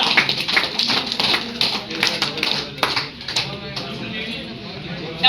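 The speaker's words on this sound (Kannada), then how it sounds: "ಜೋರಾಗಿ ಚಪ್ಪಾಳೆ ಕೊಡಿ ಇವರಿಗೋಸ್ಕರ." Applause from an audience at a gold-coin lucky draw, a burst of claps that thins out over a few seconds, with a voice speaking over it.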